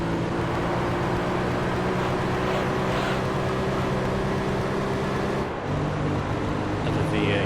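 A V8 car engine roars in the Gran Turismo 3 racing game as a loud, steady drone that holds throughout. It dips briefly near the end, and someone talks over part of it.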